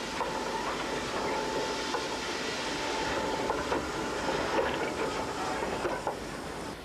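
A tourist heritage train running along an Australian railway track gives a continuous rumbling roar with a steady hiss and faint rhythmic clicking of the wheels, close and loud throughout with no talking.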